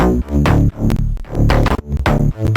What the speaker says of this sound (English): So with these slap house bass lines, they always sound really boring on their own.